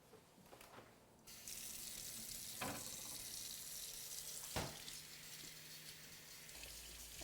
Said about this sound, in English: Maria, why don't you start washing these potatoes while I get some milk out of the fridge?